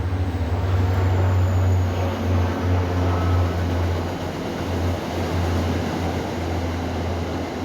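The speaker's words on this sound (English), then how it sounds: "train going by behind me" A train rumbles past nearby outdoors, a steady loud low-pitched roar with rail noise that holds throughout and eases slightly toward the end.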